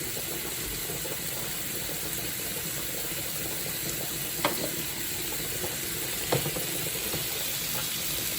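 Sliced kielbasa and cabbage fry in a preheated pan, a soft, steady sizzle running throughout with two brief clinks of a utensil against the pan.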